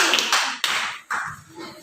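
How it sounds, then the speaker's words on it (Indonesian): Pupils in a classroom clap briefly for a classmate's question, with a few quick bursts of scattered hand claps and a short pause between them. "Tepuk tangan untuk pertanyaannya"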